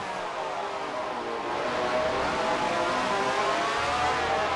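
A race car engine drones steadily and loudly in an SF1 racing video game during a Niki Lauda memorial race, its pitch holding high with slight rises as it accelerates.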